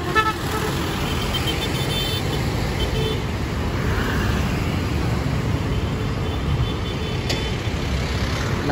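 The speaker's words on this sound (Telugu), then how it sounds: "ట్రాఫిక్" Busy road traffic in Saigon near Ben Thanh Market: a dense, steady wash of engine and road noise with scattered car horn toots, heard from within the street, with no talking.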